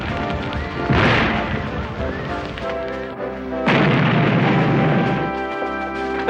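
Cannon fire from Dorchester Heights during the siege of Boston, with two heavy booming blasts a few seconds apart that roll and rumble against a sustained background of dramatic music.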